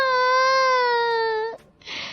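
A woman wails loudly in a single sustained, tonal cry that holds for about a second and a half, then breaks off into a short breathy sob; no other voices are heard.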